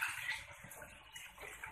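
Homemade organic pesticide mixture pours through a funnel into a bottle, a faint, steady trickle of liquid running for a couple of seconds with no talking.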